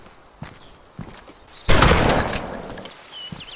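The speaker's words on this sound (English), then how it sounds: "you can load it with the standard shotgun ammo. And now let's shoot some zombies" A single loud MP-133 pump shotgun blast in DayZ Standalone at a zombie, preceded by a few soft footsteps or clicks and followed by a decaying tail and light movement sounds.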